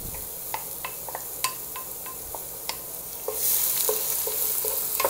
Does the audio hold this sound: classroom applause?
no